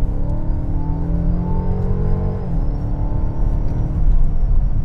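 A 2021 Mercedes-Benz GLB 250 4Matic accelerates after a downshift, its engine droning loud and close as the pitch of the engine shifts and builds, with steady road rumble underneath.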